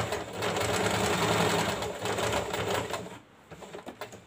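A sewing machine stitching a blouse sleeve runs in a fast, steady mechanical whir up close, then slows into a few separate stitching bursts near the end.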